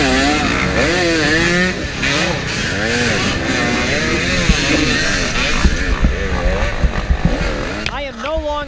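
Dirt bike engine racing in a harescramble, loud and close with wavering, rising and falling revs throughout, several sharp throttle blips near the end, and a voice talking over the engine noise.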